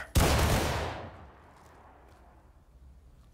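Musket volley in War of Rights, a single loud massed crack of many muskets fired together, rolling off into a long fading echo.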